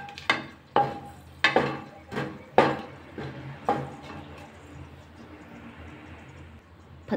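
A spoon stirs whole spices, including cardamom, cloves and a bay leaf, in a cooking pot for chicken soup. About seven sharp knocks and scrapes come in quick succession, then a faint sizzle carries on alone.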